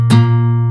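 A single guitar strum sounding only the sixth and fourth strings rings out once, loud and close, with a sharp attack that decays into a sustained low tone with no voices.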